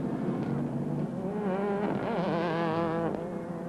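Race cars roar off the start on a circuit at Megara, several engines revving and shifting together in a loud, continuous rising and falling drone, heard from close by with no talk.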